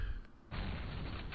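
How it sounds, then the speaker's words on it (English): A grenade blast from the first-person shooter F.E.A.R. Extraction Point: quiet low rumble, then a sudden loud broadband boom that holds as a dense roaring wash to the end. "Grenade!"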